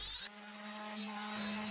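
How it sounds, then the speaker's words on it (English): A power sander works wooden blocks for a home-built acoustic diffuser, a steady whirring drone that holds evenly after a brief sharper burst at the start, with no talking. "So here I am sanding the blocks down."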